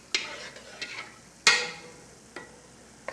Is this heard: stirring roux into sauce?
yes